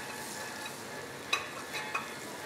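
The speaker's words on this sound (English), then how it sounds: "And we'll give it a little stir." Finely chopped shallots stirred in melted butter in a pan over lowered heat, giving a faint, steady sizzle with a few soft scraping strokes of the utensil.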